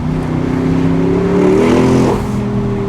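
A 2020 Porsche Cayenne Coupe Turbo accelerates hard, its engine note rising loud and close with a strong harmonic drone that climbs in pitch, and no talking.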